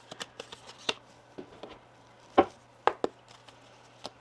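Tarot cards being shuffled by hand, a run of crisp riffling flutters and sharp card taps against a steady low hum, close and fairly quiet, with no voices.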